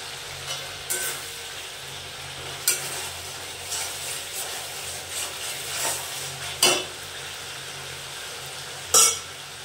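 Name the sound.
spice masala frying in a pan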